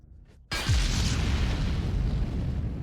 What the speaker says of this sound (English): I love things that go boom.